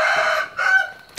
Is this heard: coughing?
no